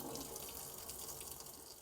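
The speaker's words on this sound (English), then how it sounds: "This is just showing you that the hot water is working." Hot water runs from the tap of a 2024 Adria Matrix Plus 600DT campervan into the sink, a steady rushing stream heard up close with no speech.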